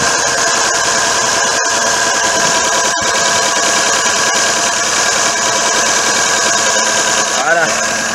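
A 1.4 litre carburetted petrol engine in a Renault Clio, running on E85 after a cold start, idles with a steady, rough, trembling drone throughout, close and loud, with a person talking over it.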